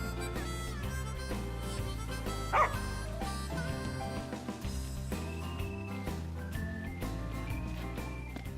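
A dog barks once, briefly and at moderate distance, in the Final Fantasy XV video game, rising out of a steady bed of sustained music.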